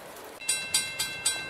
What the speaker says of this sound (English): goes another train northbound